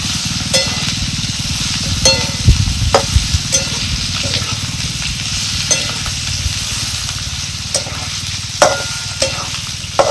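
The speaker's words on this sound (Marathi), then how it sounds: "आता हे कारले आपल्याला चांगले ना ह्या मसाल्यातला ना हलवून घ्यायचे" Bitter gourd is stirred and fried in masala in a pan, giving a loud, steady sizzle with sharp scrapes and clinks from the stirring spoon at irregular intervals.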